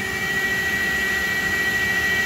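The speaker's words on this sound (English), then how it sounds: "So I'm just running a new end mill through them until I get up to there again." An end mill machining holes in a BMW crown wheel for a Quaife LSD, run dry without coolant: a steady, loud, high-pitched tonal whine over a constant broadband hum, unchanging throughout with no talk.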